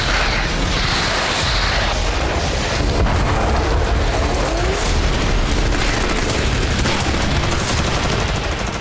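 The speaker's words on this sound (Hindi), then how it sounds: "सिवर्स्क के घने जंगल में जनरेटर और रूसी सेना के बंकर का पता लगते ही भारी गोलाबारी शुरू हो गई" Heavy shelling hits a Russian bunker and generator in dense forest near Siversk, a constant loud roar of booms and gunfire blasts with wind buffeting the microphone, dense and unbroken throughout.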